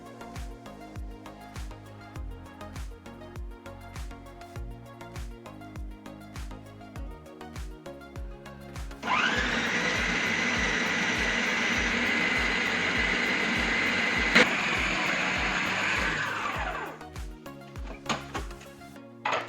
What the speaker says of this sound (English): I will put this together in my food processor in batches